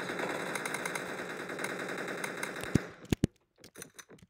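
Rapid machine-gun fire from a high-value gun in the Battle Forces video game rattles on steadily, then breaks off into a few separate loud shots with quiet gaps between them.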